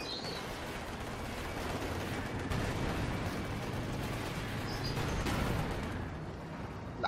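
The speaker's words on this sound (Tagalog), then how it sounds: "SU-85 putok." Dense, continuous battlefield din from the Company of Heroes game, with SU-85 tank gun fire blending into a steady roar of gunfire and explosions; a couple of slightly louder bursts stand out and no one speaks.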